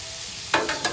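Catfish and butter sizzling on a 22-inch Blackstone griddle, a steady close hiss with a few brief scraping stirs near the end.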